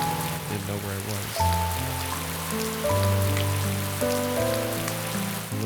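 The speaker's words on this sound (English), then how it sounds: "The rain kept pouring down on the streets." Rain pours steadily onto city streets, a constant hiss of drops under sustained musical tones that shift in pitch throughout.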